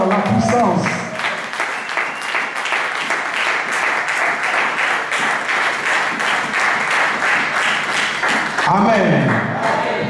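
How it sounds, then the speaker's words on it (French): A church congregation applauds and cheers in sustained, loud clapping that fills the room from start to finish, with voices mixed into the crowd. "Acclamons très fort Jésus qui mérite l'honneur"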